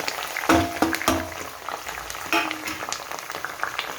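Herbs and ajwain dropped into hot oil for homemade hair oil, bursting into a busy, crackling sizzle with sharp pops at the start that settle into steady frying, close and fairly loud.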